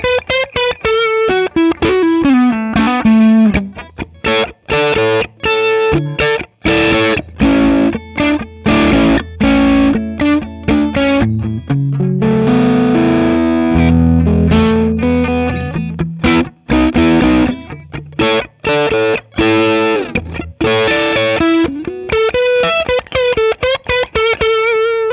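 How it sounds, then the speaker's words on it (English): A distorted electric guitar through a Porter Anthem PAF neck humbucker plays a melodic lead with chords and bends, warm and thick in tone, with an effects-laden sound throughout. "quick sound samples of the neck position Anthem PAF humbucker"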